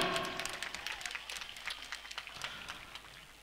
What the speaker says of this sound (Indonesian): Tepuk tangan untuk seluruhnya.